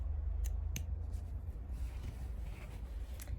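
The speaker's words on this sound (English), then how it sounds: "I'm going to cut just up to that point there" Scissors cut fabric along a drawn line, with several crisp snips close by over a low rumbling background.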